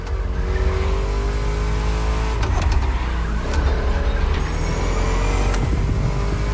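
A V8 engine roars and revs steadily, loud and close, with the pitch climbing and dropping as the car accelerates through gear changes.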